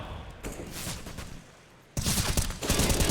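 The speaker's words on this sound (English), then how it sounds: "Oh, Tessus, he's not shy with his bullets, is he? Just constantly peppering." Rapid gunfire during a professional Counter-Strike match on the Vertigo map, with bursts of automatic shots, then a brief lull before louder, denser sustained firing resumes, sharp and close.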